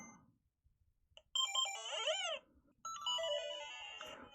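Startup chime of a Nintendo Game Boy DMG being restored, a short bright two-note electronic ping followed by a brief tonal jingle in an otherwise quiet room.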